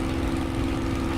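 Steady, loud drone of a Spitfire L.F. Mk IXc propeller engine in Microsoft Flight Simulator, with the prop control pushed to full, giving a constant throbbing hum with no speech.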